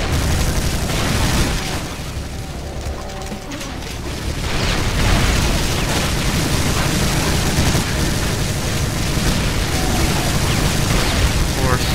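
Chaotic combat din from the Brutal Doom shooter, with booming explosion bursts and mechanical clatter layered over one another at steady loudness, while a voice talks over the gameplay.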